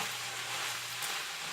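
A flour roux cooking and being stirred in a pan gives a steady, close, even sizzling hiss that runs unbroken and alone throughout.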